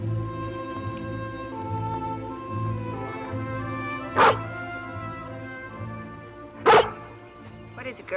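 Lassie, a dog in an old cartoon, gives two sharp barks a couple of seconds apart, standing out over a steady musical score.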